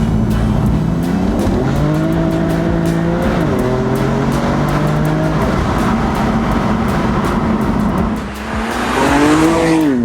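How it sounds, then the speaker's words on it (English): A BMW M4 Competition with a Stage 2 tune revs hard and climbs through the gears, with rising and falling harmonic tones, a brief dip near the end, then accelerating again. "we're out in the M4 now. Car's absolutely ripping"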